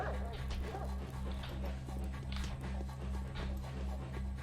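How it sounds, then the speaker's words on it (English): A dog in the video game Pathologic: The Changeling, panting and yipping in quick bursts over a low steady game hum, fairly quiet. "Is this dog coming for me?"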